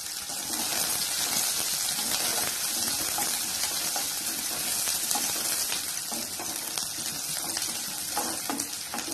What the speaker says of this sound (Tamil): பூண்டு நல்லா வதங்கினோன ஒரு 10-15 சின்ன வெங்காயம் கட் பண்ணி சேர்த்திக்கோங்க